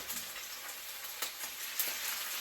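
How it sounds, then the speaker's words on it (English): Chicken pieces for chicken piccata fry in a single pan with a steady, close sizzle, a continuous hiss broken by a few small pops and crackles, with no talking. "Well, you can hear it sizzle."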